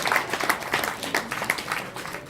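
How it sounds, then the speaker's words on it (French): An audience at a cycling team's season presentation in Saint-Brieuc applauds, giving a dense, steady spread of many hands clapping throughout. "Merci de lui réserver vos applaudissements,"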